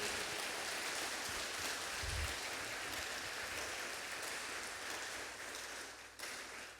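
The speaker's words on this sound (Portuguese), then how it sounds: "Você pode dar uma salva de palmas para o Senhor Jesus Cristo" A church congregation claps together in steady, dense applause that continues for the whole stretch, soft and diffuse like rain, with no voices.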